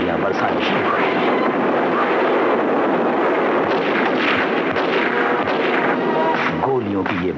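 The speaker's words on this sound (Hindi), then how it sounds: "उसके हुक्म पर सैनिकों ने अंधाधुंध गोलियां बरसानी शुरू कर दी।" Soldiers fire indiscriminately into a crowd at Jallianwala Bagh on 13 April 1919: a loud, dense, unbroken barrage of gunfire with sharp repeated cracks, mixed with voices throughout.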